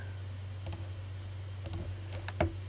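A handful of soft, close computer mouse clicks in a quiet room over a steady low electrical hum, arriving in small spaced pairs with no talking.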